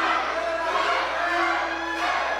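Wrestling crowd at a BODYSLAM! Wrestling show in Magatel Dents, a steady roar of many voices rising together into a chant across a big hall, loud and continuous with no clear single speaker.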